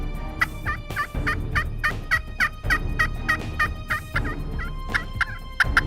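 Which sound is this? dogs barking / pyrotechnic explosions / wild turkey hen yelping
wild turkey hen yelping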